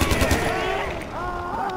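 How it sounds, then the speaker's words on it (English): Rapid automatic AK rifle fire in Far Cry 4, a burst of close, loud shots opening the clip before fading into game ambience and effects. "I'm gonna use his AK."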